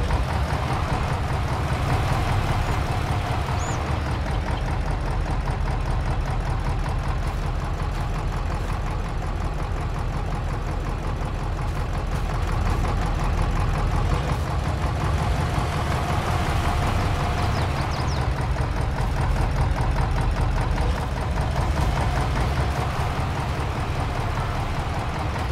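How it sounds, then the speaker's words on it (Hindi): A tractor engine idles steadily in Farming Simulator 22 while a thresher machine is tested, giving a continuous low rumble that runs unchanged and fairly loud, with no voices. "भाई ट्रैक्टर स्टार्ट ही रख गया अपना,"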